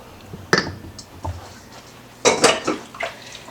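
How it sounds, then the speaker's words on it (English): Lime curd mixture is scraped from a bowl into a pan, heard as a few separate clattering scrapes and knocks of utensil against cookware, close by and with quiet gaps between. "Just scrape everything into this bowl, into this pan."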